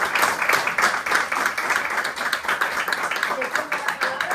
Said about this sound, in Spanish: Pues Javier, otro aplauso, mil gracias por haber venido.